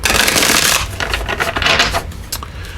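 Tarot cards shuffled by hand, a close dense riffling rush that breaks into shorter papery flicks and slaps, loud and alone.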